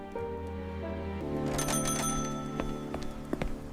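A bright bell-like chime rings out as the first party guests arrive, clear and sustained with several struck tones layered over a steady hum, fairly loud and with no speech.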